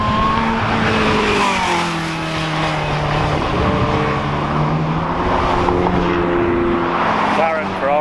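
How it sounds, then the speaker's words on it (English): A supercharged Ariel Atom on a hot lap: a loud, close engine screams up and down through the gears, with rising and falling pitch sweeps, and a voice talks over it throughout. "get in this supercharged Ariel Atom and do my hot lap"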